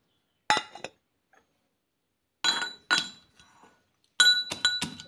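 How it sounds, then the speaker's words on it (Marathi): Garlic and peanuts are pounded into a coarse paste, heard as close, sharp clinks and knocks in short clustered bursts separated by brief silences. "आपण लसूण आणि शेंगदाणे जे आहेत ते वाटण करून घेऊया"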